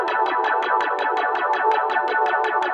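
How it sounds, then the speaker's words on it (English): Synthesizer tone with a sequencer sweeping the filter cutoff at an eighth-note triplet rate, producing a steady, fast pulsing wah-like rhythm of bright, buzzy repeated swells with no pauses. "I have sequencer 1 set to cutoff, just like before, set to a rate of 1/8 triplets, and it sounds like this"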